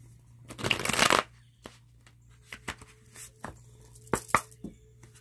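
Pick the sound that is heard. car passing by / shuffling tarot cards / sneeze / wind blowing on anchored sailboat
shuffling tarot cards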